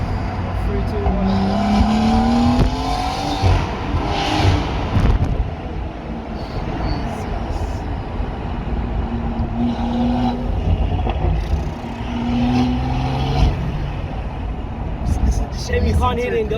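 Stage 2 BMW M140i rated at 460 bhp with a Quicksilver exhaust accelerating through a tunnel, its loud echoing exhaust roar rising and falling through several gear pulls, with voices talking over it.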